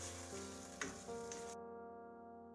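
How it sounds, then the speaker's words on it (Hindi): Chicken gizzards frying with a paste of ground garlic, ginger and green chilli, a soft continuous sizzle with a clink partway through, fading out near the end with a lingering hum. "इसमें मैंने पोटे और पिसा हुआ लहसुन, अदरक, हरी मिर्च का पेस्ट शामिल कर दिया और इसे 3 से 4 मिनट इसकी अच्छे से भुनाई कर ली।"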